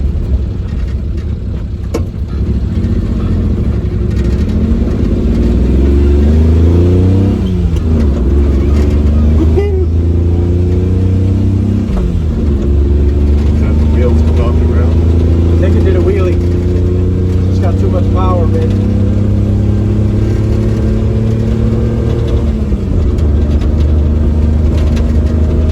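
A small mini truck engine drones loudly and close while driving, rising in pitch as it revs up through the gears, with repeated drops where it shifts, under continuous talk inside the cab.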